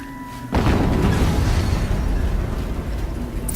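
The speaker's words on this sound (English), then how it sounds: "Another explosion." A loud explosion in Horizon Zero Dawn, in a snowy area, booming in abruptly and then rumbling on as a dense, sustained roar that stays loud to the end.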